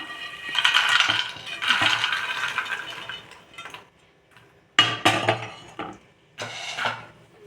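Roasted makhana (fox nuts) are tipped into a bowl in bursts, a loud rattling patter of many light, hard pieces striking the bowl, then a few shorter clattering pours after a brief pause.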